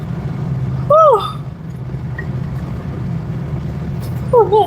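Interior of a car driving with a window rolled down, giving a steady low rumble of road and wind noise throughout, with two brief warbling tones near the start and end; no one speaks.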